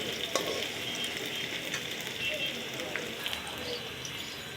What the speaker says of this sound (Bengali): দুটো পেঁয়াজ কেটে রসুনের সাথে দিয়ে দিলাম